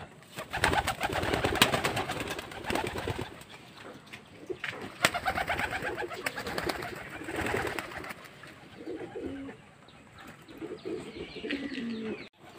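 Pigeons cooing repeatedly at close range, with wing flaps and rustling as birds take off and fly out of their loft; the calls come in uneven bursts over several seconds.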